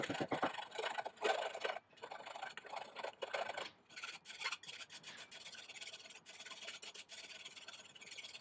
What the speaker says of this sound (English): get a flat file and just take the burr off so it slides through the bearing easily